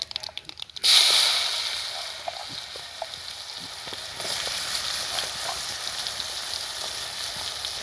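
Mustard seeds, fennel and onion fry in hot oil in a pan after dried fish, a steady sizzle rising abruptly and holding with faint crackles and pops, close and fairly loud, no talking.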